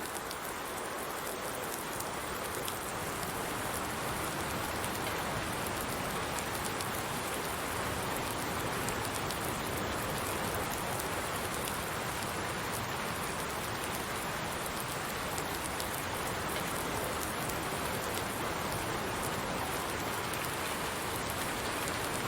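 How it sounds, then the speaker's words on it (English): Steady, dense rainfall patters on the Oakfield Farm map of a farming video game, an even and constant hiss held for the whole stretch with no voices. "When it starts to rain"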